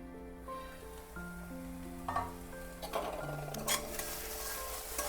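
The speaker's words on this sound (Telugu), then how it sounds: "నానబెట్టుకున్న చింతపండు బాగా మంచిగా కలుపుకోవాలి" Soaked tamarind being stirred into egg pulusu curry: quiet, continuous sizzling and bubbling with soft scraping and clinking of a spoon against the pan, a few louder stirs, and no talking.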